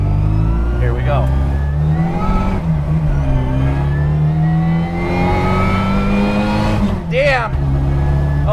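A supercharged Mini Cooper with a 1310cc engine and straight-cut gears revs hard and loud from inside the cabin, pitch climbing through gears with brief shift dips, while people talk over it.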